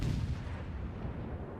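Heavy naval guns boom from warships in the online naval battle game World of Warships, one deep low rumbling blast that rolls on and fades across the short moment.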